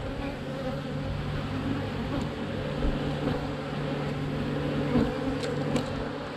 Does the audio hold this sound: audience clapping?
no